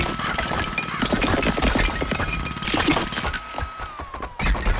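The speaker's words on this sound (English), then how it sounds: "Coming apart very easily with this handheld jackhammer of destruction" Handheld jackhammer breaking apart a structure in the Demolish & Build 3 video game, loud rapid hammering mixed with crunching and debris thuds, close and continuous.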